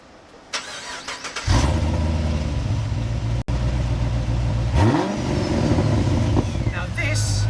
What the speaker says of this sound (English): what makes this VXR8 different to other VXR8s is this Wurtek exhaust